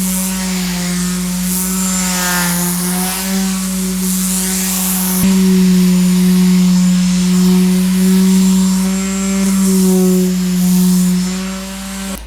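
Power sander working over a wooden chest of drawers, a steady loud whine with a strong low hum, running continuously and alone with slight shifts in pitch and pressure.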